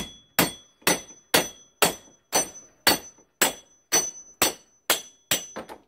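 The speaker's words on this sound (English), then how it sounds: "I'm just gonna hammer it down on the anvil." Steady, evenly spaced hammer blows ring out on an anvil while a railroad spike is shaped into a mace, about a dozen sharp metallic strikes in a row, close and loud with no talk.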